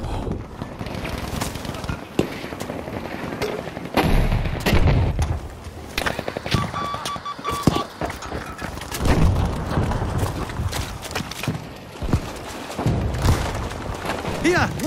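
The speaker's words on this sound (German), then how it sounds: "Ich werfe eine Granate!" A grenade thrown amid gunfire in the Battlefield V video game on Twisted Steel: dense, continuous crackling shots and explosions under shouted voices.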